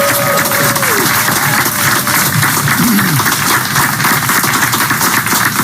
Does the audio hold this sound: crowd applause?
yes